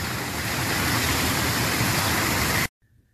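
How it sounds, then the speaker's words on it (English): Steady, loud rushing water from a waterfall beside a pool fills the air as one continuous broadband roar, then cuts off abruptly to near silence. "Nice waterfall."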